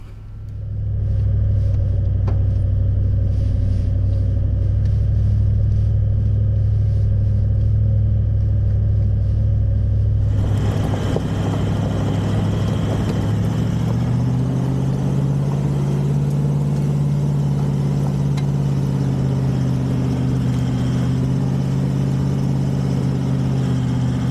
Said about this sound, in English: Went back to first gear low range, picked a line all the way to the left to avoid too many bumps and roots